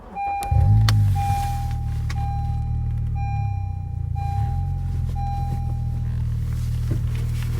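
A 2015 Honda Civic Si with a 2.4L engine starts by push button, its starter cranking briefly before the engine catches into a steady close idle hum, with a chime beeping at intervals.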